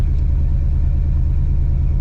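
A 1976 Chevrolet Caprice Classic two-door lowrider with hydraulics rolls slowly down the road, its engine giving a steady, loud, deep rumble throughout with no voices.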